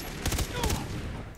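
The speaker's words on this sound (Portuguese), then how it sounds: "Não, não se mexe quando tô atirando em você, cara." Shots from the player's gun in Far Cry 3, a quick cluster of loud close bursts in two short groups within about a second, with someone talking over the firing.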